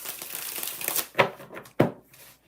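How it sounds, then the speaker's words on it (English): Tarot cards being shuffled by hand, a run of soft papery riffling and crinkling with two sharper card snaps, close and fairly quiet. "So we're going to shuffle it some more."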